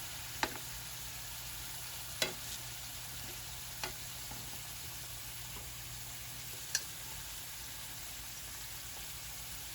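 Potatoes frying in a pan for a late-night frittata, a steady soft sizzle with a few sharp utensil clicks and stirs at irregular intervals, close and with no talk.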